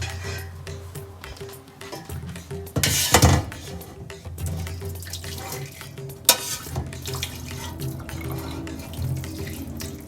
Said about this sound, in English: Dumping out some of the water.